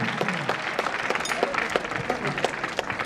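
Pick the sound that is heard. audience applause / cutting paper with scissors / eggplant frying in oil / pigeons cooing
audience applause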